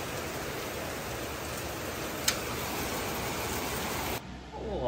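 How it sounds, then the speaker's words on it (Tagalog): Heavy rain pours as a dense, even hiss that fills the background, with one sharp click partway through before the roar cuts off near the end. "Lakas ng ulan po."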